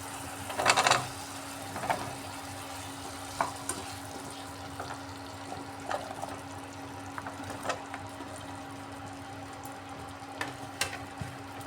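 Potato and kohlrabi pieces frying in spices for a vegetarian dish, with soft sizzling and scattered scrape-and-clack stirring strokes over a low steady hum, fairly quiet and close.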